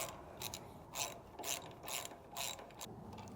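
Ratchet tightening bolts during a Wilwood disc brake installation, a series of quick clicking bursts in an even rhythm, roughly eight strokes, heard close and fairly quiet.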